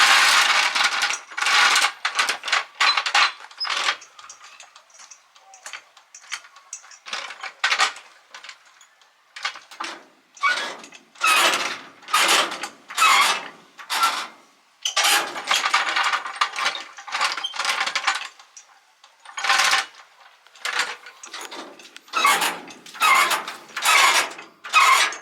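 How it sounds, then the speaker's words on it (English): A jack raising a trailer before a wheel comes off for bearing work, heard as repeated bursts of sharp metallic ratcheting clicks in uneven rhythm with short pauses, close and loud, no talk. "Now we'll get the jack and we'll jack the trailer up"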